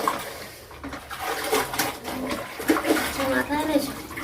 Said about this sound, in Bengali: হ্যাঁ, মাথাটা ধুয়ে নেবো,